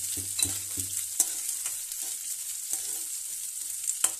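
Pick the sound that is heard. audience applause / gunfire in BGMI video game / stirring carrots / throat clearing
stirring carrots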